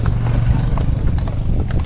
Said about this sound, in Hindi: हम लोग तांगे का आनंद ले रहे हैं घोड़ा गाड़ी से पूरे परिवार के साथ